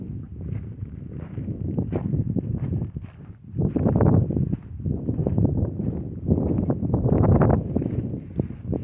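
Strong gusty wind blows outdoors and buffets the microphone, a loud, rough rumble that surges and dips over several seconds, with faint rustling and possible footsteps underneath and no talking.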